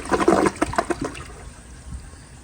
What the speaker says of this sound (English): So here is another flush